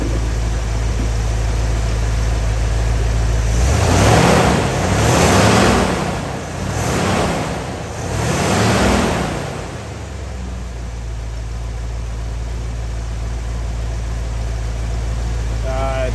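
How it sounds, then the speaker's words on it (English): Rebuilt Ford 302 V8 idles in a truck with a steady low drone, broken mid-clip by a few swelling revs or surges before it settles back to an even idle. "it idles pretty good"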